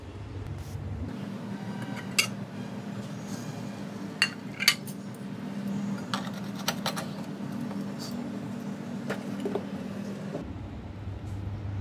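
Paneer matka biryani being served onto a plate from a clay pot, with soft scraping and a few sharp clinks of a spoon against dishware over a low steady hum, no voices.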